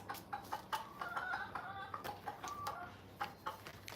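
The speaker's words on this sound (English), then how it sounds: "That's the rooster making a noise, saying he's found food to all his hens." A rooster clucks in short repeated bursts, fairly close, over a low steady background hum.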